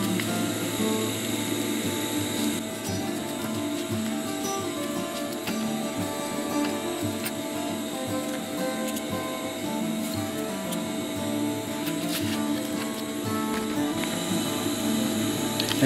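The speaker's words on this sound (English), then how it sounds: "Now we want to sew pulse webbing." A sewing machine stitches PALS webbing for a chest pouch, giving a steady, close mechanical hum with fine rhythmic needle ticks that continue without pause.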